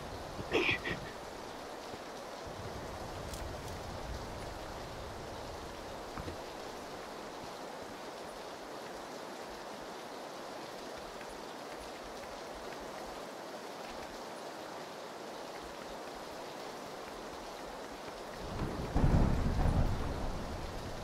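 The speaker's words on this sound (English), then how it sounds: "The rain." Rain and thunder in the Predator video game: a steady, even hiss of rainfall runs throughout, and a deeper rumble of thunder swells near the end.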